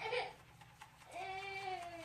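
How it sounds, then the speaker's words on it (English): An infant cries and whimpers in the background, with a rising wail that fades and returns, faint and somewhat distant against a quiet room. "Sorry if you can hear a baby in the background crying."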